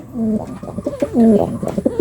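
Beauty Homa pigeons coo loudly and close by, in a run of throaty, warbling phrases that rise and fall one after another.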